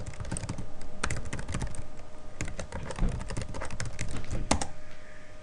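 Rapid, uneven keyboard typing on a computer keyboard, steady clicking keystrokes close by and fairly quiet, running the whole time with no talk.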